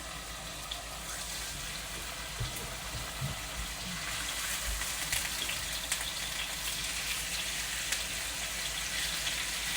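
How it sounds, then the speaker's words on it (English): Steaks sizzling in extra virgin olive oil in a frying pan for a steak salad: a steady, close crackle and hiss with scattered pops, continuing evenly throughout. "We're going to drop these steaks in the pan. Hear that little sizzle?"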